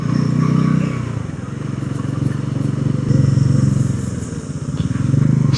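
A motorcycle engine drones steadily nearby, rising and falling as it rides along the NH66 highway between Mumbai and Dapoli, with faint clatter mixed in.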